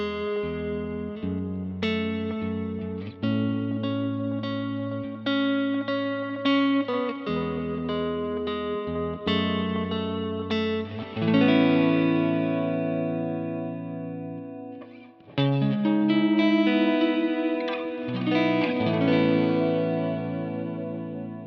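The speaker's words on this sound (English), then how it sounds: "this has delay and reverb, kind of big sounds, just in mono first" Electric guitar through a Kemper with delay and reverb in mono, sustained chords and single notes ringing out with big, washy echoing tails, played alone with no talk.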